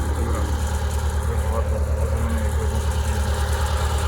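A T-40AM tractor engine drones low and continuously at an even idle, with no breaks or changes in pace throughout.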